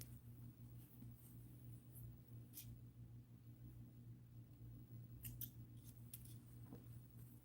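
Scissors snip through sewing thread for a doll dress, making a few faint, scattered clicks over low room hum, with no talking.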